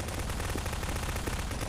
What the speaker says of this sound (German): das war der letzte Schuss